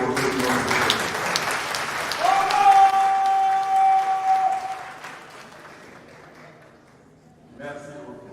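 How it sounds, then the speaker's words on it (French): Audience applause at a literary prize ceremony in Cameroon fills the first half of the clip, with a voice speaking French over it and a sustained tone, before fading out. "S'il vous plaît, je vous prie d'applaudir pour tous nos icônes."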